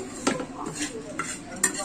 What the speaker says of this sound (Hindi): अब दूध उबल चुका है तो इसमें सेवई को डालूंगी